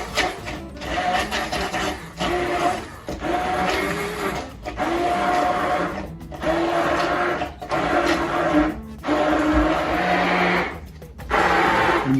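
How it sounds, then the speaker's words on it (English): A stick blender whirs through a salad dressing made with vinegar in repeated short motor bursts, each lasting about a second, separated by brief pauses. "I prefer a stick blender because it's easy and it takes up very little space."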